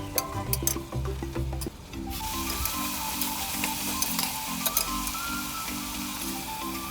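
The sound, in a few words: stirring biryani masala with ginger-garlic-chili paste in pan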